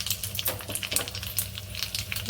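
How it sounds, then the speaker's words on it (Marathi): Mustard seeds and curry leaves sizzle and crackle in hot oil as a tempering for a coconut chutney. The frying is steady and close, with pops scattered throughout. "तेल गरम झालं की राई टाकायची राई छान चटचडली"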